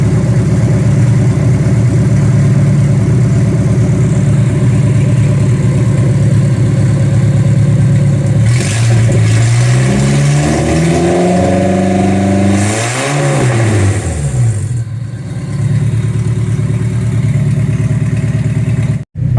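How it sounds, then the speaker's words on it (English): A Cummins SR620 engine in a truck runs loud and steady at idle, then revs up twice in rising and falling sweeps before settling back to a close, rumbling idle with light clatter. "so I've got the truck running"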